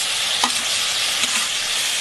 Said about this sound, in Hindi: प्याज हो चुका है, अब हम इसमें डालेंगे टमाटर